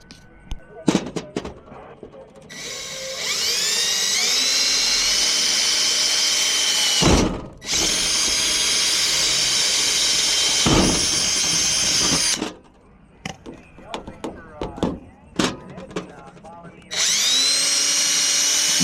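A power drill bores holes into the metal fender of a trailer outdoors, running in several long whining bursts with short pauses between them, plus a few sharp clicks and knocks, loud and close.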